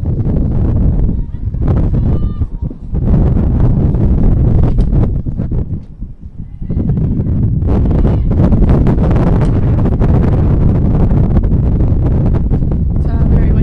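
Strong wind buffets the microphones at a women's soccer match, a loud, rumbling roar with gusts that swell and briefly drop away, with faint voices mixed in under the noise.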